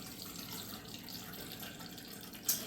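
Water running from a tap into a glass coffee pot being refilled after a vinegar cleaning, a steady close hiss of filling with a brief louder splash near the end; no talking.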